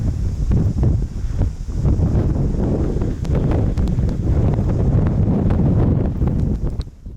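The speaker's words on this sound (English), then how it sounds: "There's still too much wind here." Strong outdoor wind buffets the microphone on a New Plymouth, New Zealand street near a building, a loud continuous low rumble with gusting surges that lasts the whole stretch before easing at the very end.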